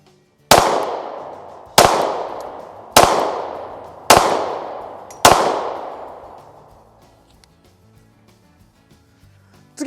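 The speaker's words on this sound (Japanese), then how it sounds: "まずはねスプリングフィールドヘルキャット5発撃ってねリコイルを見ていきたいと思います。" Five loud, sharp pistol shots from a Springfield Hellcat, fired at an even pace about a second apart, each cracking close by and trailing off in a ringing echo before near silence.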